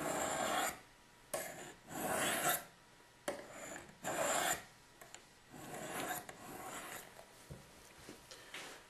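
A knife blade drawn along the rods of a Spyderco Sharpmaker makes repeated rasping strokes, about six close, rhythmic swipes with short pauses, then softer, quicker rubbing toward the end.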